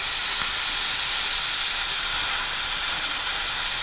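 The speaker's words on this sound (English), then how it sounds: "I don't know how old the compressor is. I got it second hand" A second-hand air compressor gives off a loud, continuous hiss of escaping air, steady and unbroken throughout with no voices.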